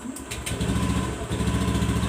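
A motorcycle engine is cranked on the electric starter and settles into a steady idle, with a few brief clicks at the start before the low, even engine rumble runs on.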